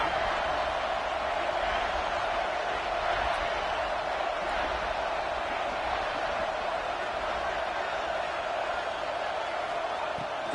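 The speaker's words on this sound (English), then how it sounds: "This crowd is trying to inspire this defense to make a big red zone stop." At an Alabama versus Ohio State football game, the stadium crowd roars in a dense, steady wall of cheering that stays loud and unbroken throughout.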